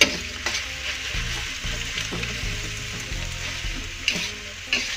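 Spinach sautés in a generous amount of oil, giving a steady close sizzle with occasional stirring clatters and low, stepped hum from the stove, with no one talking.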